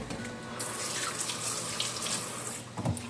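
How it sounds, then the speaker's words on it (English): Hands rinsed under a running kitchen tap while cooking adobo chicken wings, a steady close splash of water that swells as the hands move through the stream. "Let me rinse my hands."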